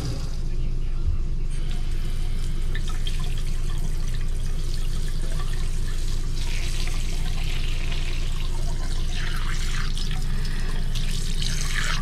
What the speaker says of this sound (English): now I've run the water through the lines